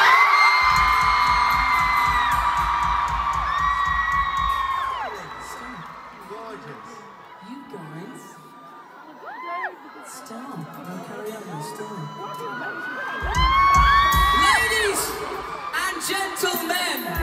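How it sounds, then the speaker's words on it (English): A packed O2 Arena concert crowd in London roars and whoops loudly, swelling and fading in waves under a singer's amplified voice and ringing music. "Maybe the loudest crowd of the tour so far"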